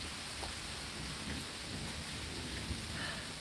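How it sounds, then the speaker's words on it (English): Rain falling during a storm, a continuous broad wash of pouring water with a low rumbling undertone and occasional soft drops, steady throughout with nobody speaking. "we're just enjoying this rain now"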